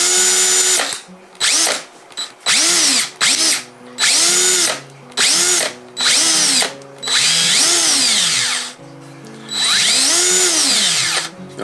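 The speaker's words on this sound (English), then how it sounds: "if you let go of this quickly, you get this real clanky," A DeWalt cordless drill whirs in repeated short bursts, each quick trigger release followed by a clanky, ratcheting rattle as the motor winds down.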